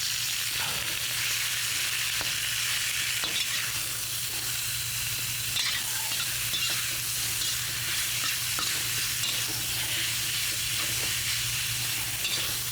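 Inexpensive steak cut into strips stir-frying in a hot pan, a steady broadband sizzle with a low hum underneath and occasional clicks of stirring, continuous and close throughout.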